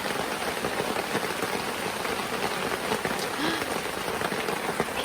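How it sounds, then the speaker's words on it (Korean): Heavy rain pours at a campsite in Wanju, a dense, constant hiss of drops drumming on surfaces, close and loud throughout with faint voices beneath. "비가 엄청 많이 와요."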